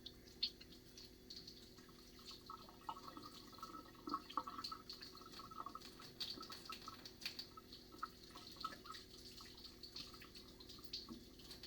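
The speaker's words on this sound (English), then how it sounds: "Give my hands a wash." Hands rinsed under a running kitchen tap, a faint, steady stream of water splashing into a sink with small drips and patters, quiet and continuous throughout.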